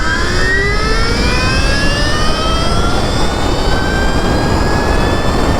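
A very powerful dirt bike fitted with street wheels revving at full throttle in mode 1, a loud, continuous high-pitched engine whine with rising tones, close and steady throughout with no voices.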